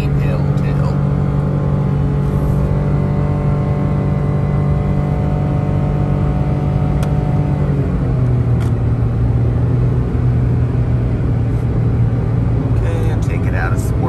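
A 2021 Mitsubishi Mirage SE engine strains hard up a steep I-68 merging on-ramp with a loud, steady droning hum that drops in pitch about halfway through, heard from inside the car.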